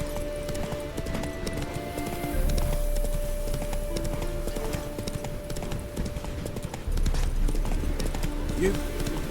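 A horse gallops in The Witcher 3 video game, its hooves pounding out a steady rhythmic clip-clop under a quiet ambient music bed, with a voice speaking briefly.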